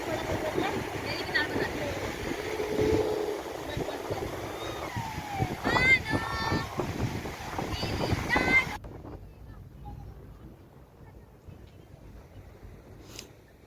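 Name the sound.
sea waves roaring at the beach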